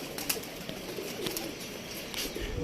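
Pigeons coo softly against a busy outdoor background, with a few faint bird calls scattered through the short stretch.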